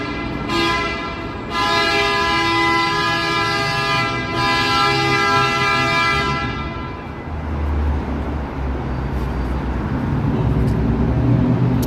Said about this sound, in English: I yelled his name and then the bus started honking.